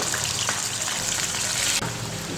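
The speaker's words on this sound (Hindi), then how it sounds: "प्याज के पेस्ट को लाइट सा भूनेंगे ऑयल के अंदर" Onion paste frying in hot oil in a pan, a dense, continuous close-up hiss that stays loud and even throughout, with a brief dip near the end.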